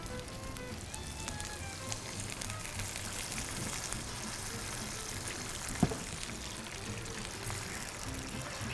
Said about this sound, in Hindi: अच्छा जी, मैं इसमें शामिल करूँगी पानी।